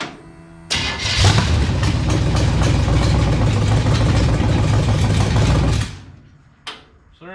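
A hot rod engine fires up on a squirt of fuel in the carburetor with no gas tank fitted, catching at once into a loud, steady rumbling run for about five seconds before cutting off, followed by a short clunk.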